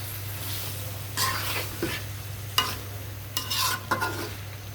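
Goat liver and potatoes sautéing in a pan, with a steady low hum beneath several short bursts of stirring and scraping, each a second or so long, and a few sharp clinks in between.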